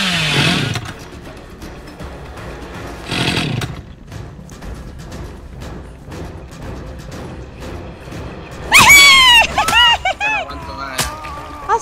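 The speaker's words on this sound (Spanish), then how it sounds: "¡Que no controlo la motosierra!" A chainsaw revs in the Dead by Daylight video game, rising in harsh bursts over a constant mechanical drone, with a loud high scream near the end and excited shouting over the action.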